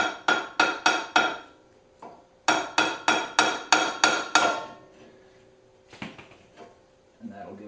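A small hammer taps a vehicle strut assembly during a Trailblazer/Envoy strut replacement: two quick runs of about five and seven sharp, evenly spaced strikes close by, then a few softer knocks and handling sounds.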